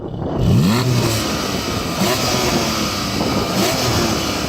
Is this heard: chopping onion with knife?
no